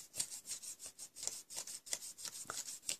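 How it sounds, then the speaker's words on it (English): Crimped paper for paper flowers being rubbed between the hands, a quiet, rhythmic scratchy rasp of about a dozen quick strokes close by, with no talk. "You can literally just run it through your crimper, you know, and then rub it out."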